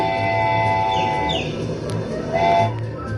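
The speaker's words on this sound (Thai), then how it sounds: "เสียงรถไฟ" A train sounds its horn in long, steady blasts over a low rumble. A shorter blast returns near the end.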